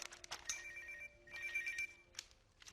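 A mobile phone rings in a classroom, a faint electronic ringtone repeating in short tonal bursts over quiet room noise.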